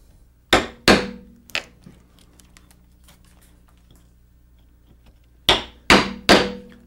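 Chisel struck by a mallet chopping a mortise in hard black walnut: two sharp knocks, a lighter tap, a quiet stretch, then three more heavy blows in quick succession, close and clear.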